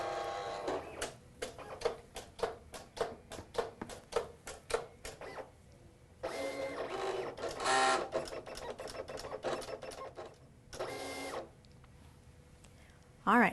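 A craft cutting machine cutting thick cardstock: rapid mechanical ticking and whirring in stop-start bursts, with longer motor runs in between, close by.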